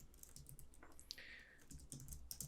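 Fingers type on a computer keyboard, a quiet, steady patter of key clicks with a few brief gaps.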